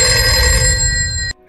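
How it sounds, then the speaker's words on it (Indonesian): An old-style reception desk telephone bell rings continuously and loudly, then cuts off abruptly. "telepon resepsionis berbunyi"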